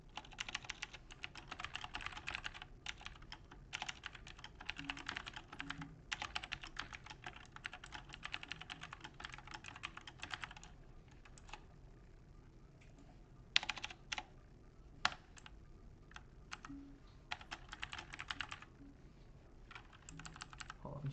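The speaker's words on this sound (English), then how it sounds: "I'm gonna go on mute while I type this because my keyboard is loud" Loud computer keyboard typing in steady bursts of rapid clicks, pausing briefly between runs, close to the microphone and with no talking.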